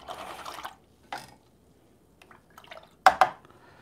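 A paintbrush is rinsed in a cup of water during acrylic painting, with a few separate splashy swishes and drips, the sharpest burst near the end, and quiet gaps between.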